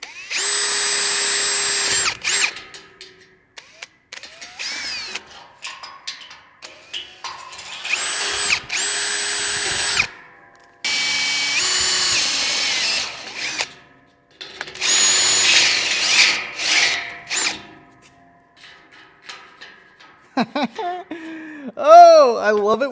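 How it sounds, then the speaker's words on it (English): A power drill bores a hole through a hangar door part from both sides, cutting in loud bursts with pauses and short stops between runs, and a voice talks in the quieter gaps. "Drilling it from both sides so that way it's straight."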